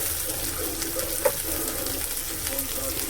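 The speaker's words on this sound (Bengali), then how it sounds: "মশলাটাকে একটু ভেজে নেব" Spice paste with turmeric, chilli powder and green chilli paste fries in oil, giving a steady soft sizzle with a faint stirring clink, close and continuous.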